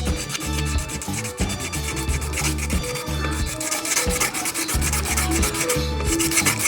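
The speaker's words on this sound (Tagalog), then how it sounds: "So ito ating lihain lang yung shafting bago natin ilabas." Steady rhythmic rubbing as a machine shaft is sanded by hand during a repair, the close abrasive strokes repeating back and forth loudly without pause and with no voices.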